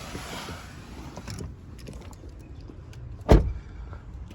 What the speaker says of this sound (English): Put the handbrake back on, otherwise we're going to roll forward.